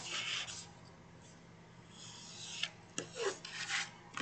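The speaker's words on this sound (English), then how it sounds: "taking our finger blade or scissors and just cutting straight down at a slight angle" Scissors or a finger blade snip and rasp through paper while envelope corners are cut at a slight angle, with brief scraping bursts near the start and a cluster of sharper cuts toward the end, close and fairly quiet.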